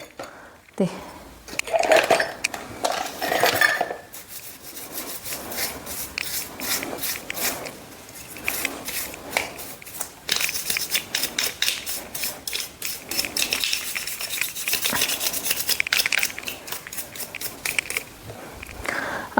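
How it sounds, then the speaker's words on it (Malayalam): Sewing machine parts soaked in kerosene are scrubbed clean with a brush, giving repeated close scratchy rubbing strokes that run almost continuously, with a few sharper knocks of metal parts being handled. "അതെല്ലാം നമുക്കൊന്ന് എടുത്ത് ബ്രഷ് വെച്ചിട്ട് ഒന്ന് ക്ലീൻ ചെയ്യണം"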